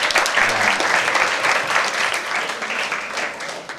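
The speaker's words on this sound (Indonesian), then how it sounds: "tepuk tangan dulu buat semangat." Students applauding at a high school orientation event in Jakarta, a loud, lively round of clapping from a large group that starts strongly and slowly thins over a few seconds.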